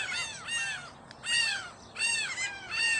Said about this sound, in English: let's go over here and check out the birds